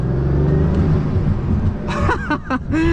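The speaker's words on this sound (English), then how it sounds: "The turbo spool is absolutely insane." A Bugatti Chiron Super Sport engine drones loud and steady from inside the cabin, with rising turbo whooshes and whistles toward the end.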